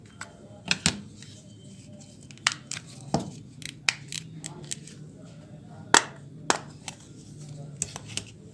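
A Nokia 105 TA-1034 mobile phone being pried open for repair: scattered sharp plastic clicks, snaps and small scraping cracks, close and fairly quiet, spread irregularly over several seconds.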